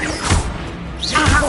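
The Confringo fire spell is cast in Hogwarts Legacy gameplay, producing a quick whoosh with a low thud, followed a second later by another swishing impact.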